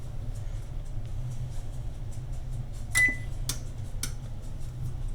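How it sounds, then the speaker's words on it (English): Several short electronic control beeps from an oven being set to 375, spaced about half a second apart over a steady low background hum, with no talking. "we gotta set the oven at 375"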